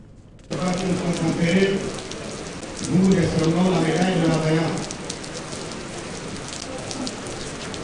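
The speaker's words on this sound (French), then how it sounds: "Même sous cette forte pluie qui s'abat sur la cour de la deuxième région militaire interarmée" Heavy rain pours onto the courtyard of a joint-forces military region, a dense steady hiss throughout, with louder passages of speech-like murmur partly mixed in over the first half.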